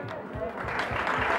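Audience applause at a live music show in a hotel venue, a brief steady wash of clapping that swells slightly, mixed with a voice speaking over it.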